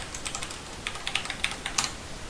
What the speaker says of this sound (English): now I should be able to type sway in